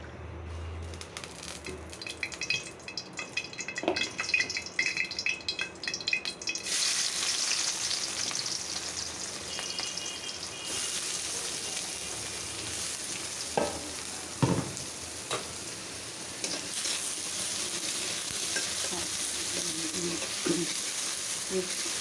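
Onions fry in oil in a pan while being stirred, a steady hiss that swells louder partway through, with occasional scrapes and knocks of the spatula, close and continuous.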